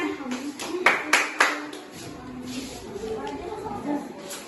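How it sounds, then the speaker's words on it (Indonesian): A group of students claps for a classmate, several loud bursts of applause rising and fading over the first seconds, with people talking throughout. "tepuk tangan buat temennya"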